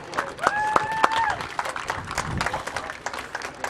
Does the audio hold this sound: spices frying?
no